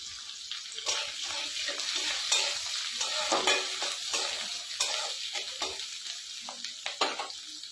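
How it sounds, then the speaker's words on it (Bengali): Radhuni spice, chopped onion and chilli sizzle in hot oil, a steady frying hiss broken by repeated scraping stirs of a utensil against the pan, close and fairly quiet. "তেলটা গরম হয়ে গেছে এখন আমি রাঁধুনি দিয়ে দিলাম আমি পেঁয়াজ কুচি দিয়ে দিলাম আমি লঙ্কা কুচি দিয়ে দিলাম"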